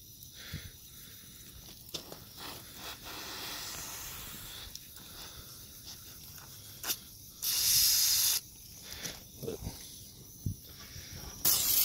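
Pressurised water sprays from a rodent breeding autowater line in short hissing bursts, with one loud, sustained spray partway through among quieter scattered clicks and handling noises.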